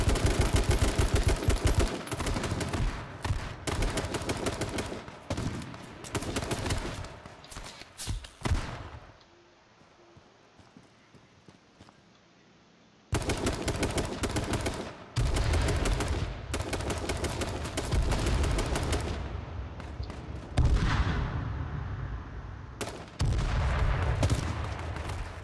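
Gunfire in H1Z1 King of the Kill, dense loud bursts of rapid shots and automatic fire in repeated volleys, broken by a few seconds of near silence before the shooting resumes, with no talk.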